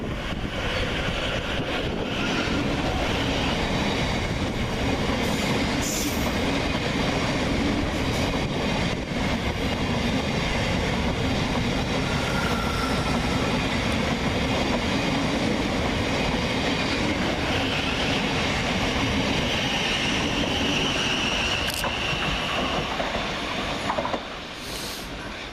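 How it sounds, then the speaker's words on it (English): A Class 700 passenger unit on a Cambridge to Brighton service trundles through Preston Park station, a loud continuous rumble with rail clatter and some wind buffeting lasting throughout, fading slightly at the very end. "700-125 trundles through, working 9 Sierra 25 from Cambridge to Brighton"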